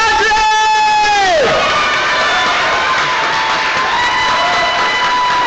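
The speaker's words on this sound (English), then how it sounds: "Applause is welcome as the names are called." Cheering crowd at a 2022 graduation ceremony as a graduate's name is called: a loud, sustained wash of shouts, whoops and clapping, with a long sliding horn-like tone at the start that drops away.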